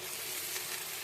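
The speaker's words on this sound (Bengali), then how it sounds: "এবার এর ভিতরে ম্যারিনেট করে রাখা মাটনটা আমি দিয়ে দেবো।" Marinated mutton for a spicy curry sizzles steadily in a pan of fried onions, a close, even hiss that holds for the whole moment with no voices.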